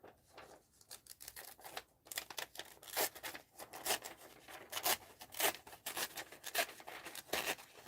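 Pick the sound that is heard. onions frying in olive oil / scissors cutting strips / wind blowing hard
scissors cutting strips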